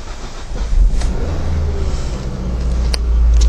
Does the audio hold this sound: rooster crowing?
no